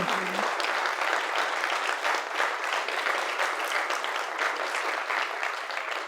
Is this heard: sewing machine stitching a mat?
no